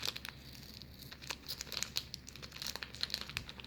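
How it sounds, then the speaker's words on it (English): Crisp, close crinkling and tearing of plastic packaging as a handmade kawaii banana paper squishy is unwrapped, quiet, rapid rustles with sharp bursts and no talking. "I'll take it out of the packaging"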